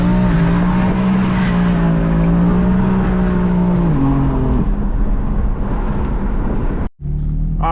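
A BMW M4 does a burnout, its engine droning at high revs with a sustained loud whine and tire roar, pitch dipping midway before cutting off abruptly near the end and resuming.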